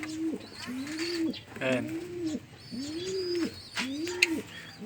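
Pigeons coo in a steady rhythm, with five or so soft, rounded calls repeating close by, while someone speaks briefly over them amid light background chatter.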